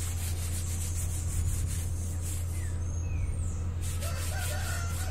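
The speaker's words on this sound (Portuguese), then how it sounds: "passar a mão com uma luva para ficar bem lisinho o vaso, melhorar o acabamento" Gloved hand rubbing over a freshly shaped cement vase to smooth its finish, a continuous close scratchy rubbing with a steady low hum underneath throughout.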